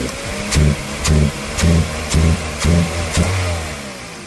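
A 2001 Toyota Corolla with a loss-of-power fault revving under repeated throttle blips, about seven evenly spaced surges rising above a steady close idle.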